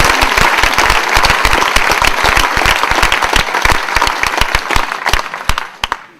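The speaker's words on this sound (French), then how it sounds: "applaudissez le plus vieux et le plus jeune." A French audience gives dense, loud applause at a talk in Muraz, Collombey, with many claps close together that taper off near the end.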